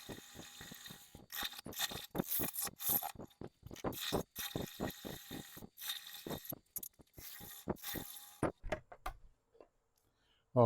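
A wood lathe spinning a bowl at about 630 rpm while a cutting tool bites the wood, making close, uneven bursts of scraping chatter with short gaps between cuts.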